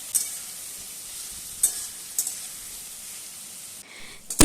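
Spices being stirred and fried in a pan for a bitter gourd chorchori, with a little water added: a steady soft sizzle under occasional spoon scrapes and knocks against the pan, and a sharper clatter at the very end.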